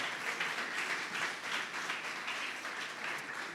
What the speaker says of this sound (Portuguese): Você pode aplaudir mais forte, por favor?